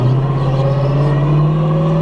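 A car with a TH400 automatic transmission accelerates on a normal road, its engine drone steady and loud with a low harmonic hum rising slightly as it pulls, heard up close from inside the cabin with no talking.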